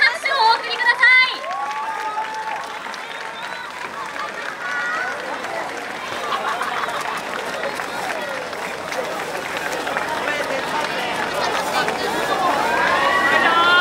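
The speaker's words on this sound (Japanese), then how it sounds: "会場の皆様大きな拍手をお送りください。" A festival audience at the Koiya Festival, a Japanese yosakoi dance event, breaks into sustained applause and cheering after an award-winning team's performance, the clapping swelling steadily louder over crowd chatter.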